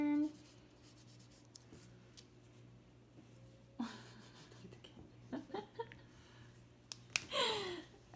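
Pencil marks being erased from a paper board-game score sheet: quiet, intermittent scratchy rubbing strokes with a few small taps and clicks, close to the listener, with no talking.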